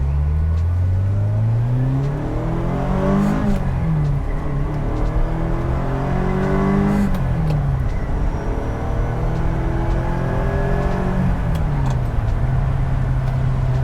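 A restored 1979 Ferrari Dino 308 GT4 climbs through several gears, each pull rising in pitch before dropping at the shift, loud, close and continuous.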